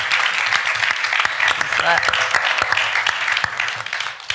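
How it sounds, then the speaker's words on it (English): An audience claps for a panel after a morning film discussion, a steady wash of applause close to the microphone, with sharp individual claps standing out and a voice speaking over it partway through. "One more round of applause for our esteemed panel this morning"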